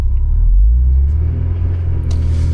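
VW Golf GTI engine with a horrible fault, a loud close deep rumbling drone holding steady, with a faint higher rattle near the end.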